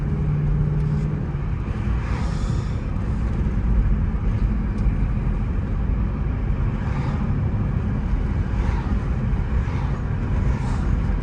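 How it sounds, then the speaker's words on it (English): Heavy road traffic drones around a Dodge Hellcat in morning congestion, a dense, steady roar of engines and tyres that stays loud and unbroken throughout. "yeah, this traffic's insane right now."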